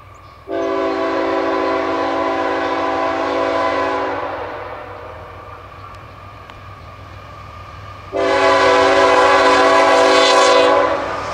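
Two long, loud horn blasts, the second brighter and closer, sound from a CSX freight train led by a GP40 locomotive with a slug, separated by a quieter stretch of rumbling train noise.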